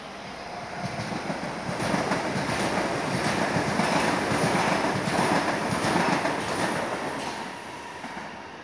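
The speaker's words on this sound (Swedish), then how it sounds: "Där har vi tunnelbanan till Hässelby," A Stockholm metro train at Vällingby station rumbles steadily past with broadband rail noise and faint clatter, building and holding loud before easing off, with no talk.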